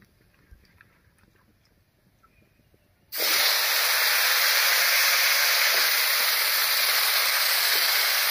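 Sliced potato and raw green banana drop into hot oil tempered with whole cumin, bursting into a loud, steady broadband sizzle after a quiet few seconds, the frying hiss continuing strong and even to the end.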